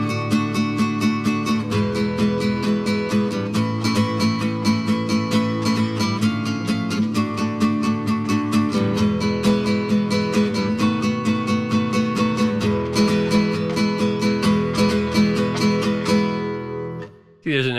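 Guitar playing the bridge of a song in time, with steady strummed chords and a moving melody that fill the whole passage at an even, loud level before cutting off at the end.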